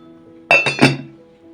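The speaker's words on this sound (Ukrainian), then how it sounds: "Накриваємо кришкою" A lid is set down on a pot of cabbage in boiling water with a bright metallic clink, rattling two or three times before settling into a faint ringing hum.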